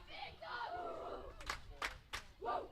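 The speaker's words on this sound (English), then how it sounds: "Told you there's going to be a cheer off Pennsbury's dugout." Softball players chant a rhythmic team cheer from the dugout at a high school game, a few short bursts of young voices heard from a distance, fairly faint.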